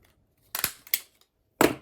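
Scissors trim the nose guard of a homemade helmet in a few short, crisp snips: two quick cuts close together, then a single sharper cut after a pause.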